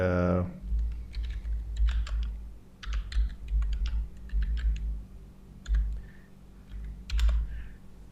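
Computer keyboard typing in short bursts of quick key taps separated by pauses, close and moderately loud over a low steady hum, with no voice.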